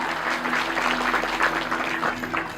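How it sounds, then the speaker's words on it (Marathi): Audience at a kirtan claps steadily throughout, a dense continuous applause at moderate level with a faint voice or music underneath. "यांच्याकडे जोरदार टाळ्या"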